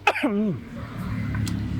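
A single sharp cough at close range, followed by a strained, wavering vocal sound that trails off into quiet room noise.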